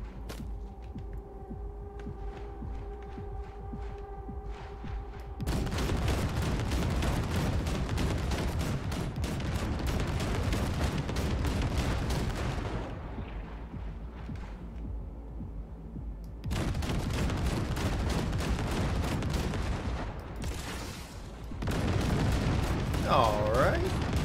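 Missiles and gunfire during a bridge assault in Cyberpunk, long stretches of heavy, loud booming and rapid shots, separated by quieter humming gaps where a voice talks.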